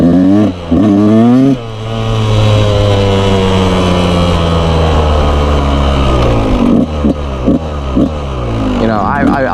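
A dirt bike engine runs loud and close, its pitch climbing and falling through rev sweeps, with a steady idle between, dominating throughout.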